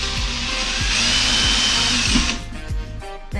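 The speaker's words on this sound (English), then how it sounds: "Today I think I'm just gonna do some holes down the sides again just to show you that technique." A power drill bores holes into the side of a pumpkin, its high steady whine running continuously with repeated low knocks as the bit cuts through, then dropping to a lighter spin near the end.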